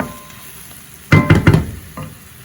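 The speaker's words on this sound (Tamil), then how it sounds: "ஒரு ஒரு நிமிஷம் சரியா ஒரு நிமிஷம் கிளறி போட்டு" Spices sizzling in a pan for a cowpea and chickpea curry while a spoon stirs, a cluster of three or four close, loud scrapes and knocks over a faint steady fry.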